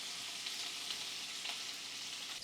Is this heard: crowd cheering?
no